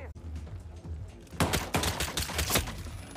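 Gunfire in the Hitman VR shooter game: a quick volley of sharp, loud shots in the second half, after a quieter stretch of low game ambience, with no voice heard.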